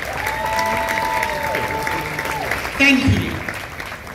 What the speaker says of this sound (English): give her a hand of applause